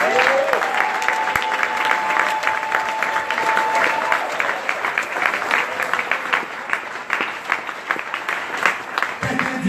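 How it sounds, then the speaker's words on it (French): A church crusade congregation in Creil applauds and cheers for Jesus, loud sustained clapping with shouts filling the whole stretch, a brief tone near the start. "acclame pour Jésus"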